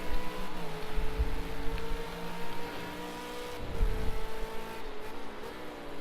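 V8 Supercars in Project Cars 2 drone down the back straight in single file, engines layered and steady with a couple of surges as cars pass, loud and continuous without voices.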